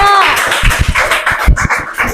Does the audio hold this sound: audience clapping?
yes